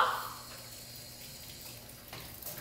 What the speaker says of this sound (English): And then we're gonna rinse our hands and get all the soap off.